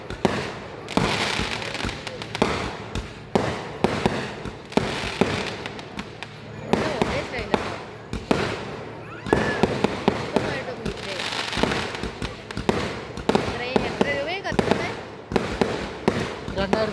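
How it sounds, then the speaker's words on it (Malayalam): Multi-shot box fireworks of 200 to 250 shots going off at a temple festival in Kottappara, giving a dense, continuous barrage of sharp bangs and crackles throughout, loud and close, with crowd voices mixed underneath. "ഇത് ബോക്സാടി. 200 ഷോട്ട് 250 ഷോട്ട് പിന്നെ പൊട്ടും."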